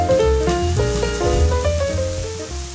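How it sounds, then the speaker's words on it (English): Ribeye steaks sizzle loudly and steadily in a Saladmaster pan as they are flipped, a dense crackling fry that runs the whole time, with a slight easing toward the end. "At the 4 minute mark, we have to flip the steaks"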